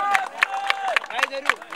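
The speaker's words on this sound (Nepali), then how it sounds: "युथहरूलाई जोरदार ताली" Rhythmic clapping from a crowd at a football cup prize distribution, honoring the youth team. Evenly spaced sharp claps under an announcer's voice.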